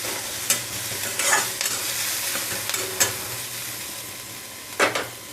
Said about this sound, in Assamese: আৰু এয়া অকণমান গোটা জিৰা দি দিছোঁ, এইখিনি এতিয়া ভালদৰে ভাজি ল'ম